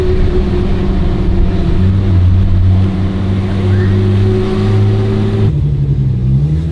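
A BMW car engine at cold start, running too lean and slow to take throttle, hums steadily and loudly, its tone rising slightly as it is revved, then dropping near the end; no one speaks.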